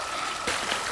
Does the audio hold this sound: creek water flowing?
yes